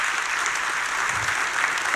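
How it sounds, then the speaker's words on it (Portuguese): Dense, steady applause from a church congregation, filling the whole moment at a constant level with no voices over it. "Uma salva de palmas para esse homem de Deus."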